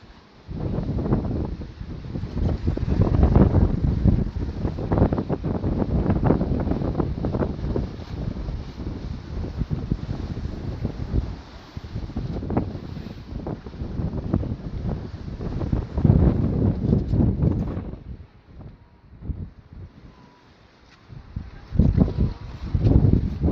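Strong wind blows at sea around a boat among big waves, a continuous loud roar buffeting the microphone that swells and eases over the whole stretch.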